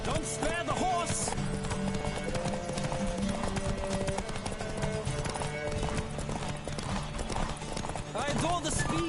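Horses galloping in The Witcher video game, a busy layer of clip-clopping hooves with occasional whinnies, running continuously over voices and other game sounds.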